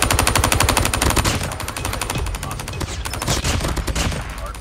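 Rapid automatic gunfire from a first-person shooter video game, a dense, loud rattle of shots that continues steadily with only brief slackening.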